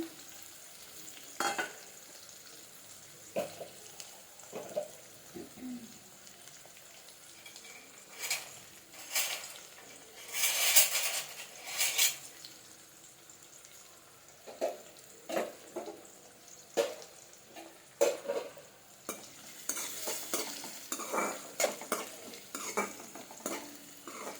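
Chopped onion sizzles in a hot pan while a utensil stirs it, with intermittent scraping and metallic clinks against the pan in an uneven rhythm, close up, with no talking.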